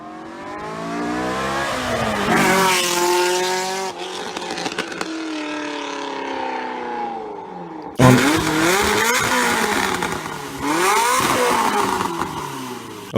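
Corvette with an LS V8 engine revving hard in several bursts, the pitch climbing and falling with each rev, loud and close, with sharp cuts between the pulls.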